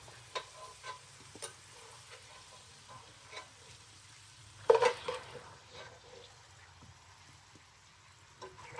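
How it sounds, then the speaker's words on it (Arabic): Potatoes frying in oil for an Adeni lunch make a soft, low sizzle with scattered small ticks and one louder clatter midway, no talking. "خلاص وطينا البطاطا بدأت تحمر"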